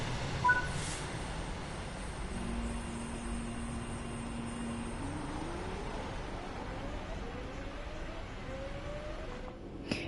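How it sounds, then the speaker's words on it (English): An express train rolls through a station without stopping in Train Sim World 3, a long rising rumble with a drawn-out horn-like tone, steady and fairly distant, with faint talk underneath. "He must be an express train."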